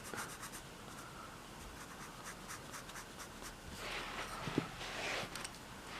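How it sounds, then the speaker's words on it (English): A pencil shading on paper during a dinosaur drawing, faint continuous scratchy strokes in short repeated passes, quiet and close. "I use this pencil a bit."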